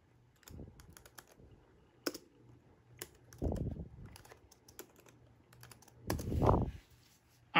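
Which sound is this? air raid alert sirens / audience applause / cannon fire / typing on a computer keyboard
typing on a computer keyboard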